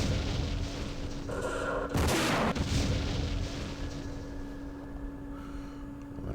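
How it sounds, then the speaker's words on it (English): Artillery and gunfire from the wargame Campaign Series Vietnam, set at Dien Bien Phu: a steady low rumble of distant fire with one loud, sharp burst of shots near the middle, over a constant electronic hum. "let's do some shooting"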